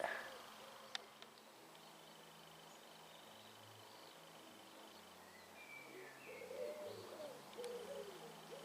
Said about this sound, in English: Maybe you can just hear the pigeons.